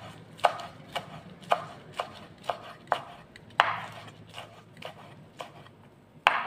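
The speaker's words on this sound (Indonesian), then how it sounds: "Lalu daun bawangnya kita potong-potong halus" A knife chops spring onions on a board with close, crisp knocks repeated at a fairly even pace, about one each half second to second, with no talking.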